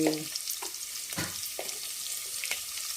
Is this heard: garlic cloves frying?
yes